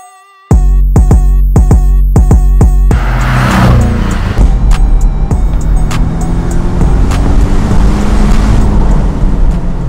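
A few sharp revs of a Porsche 718 GTS turbocharged flat-four engine, then a loud, close surge as it accelerates hard, roaring with rising pitch and shifting gears.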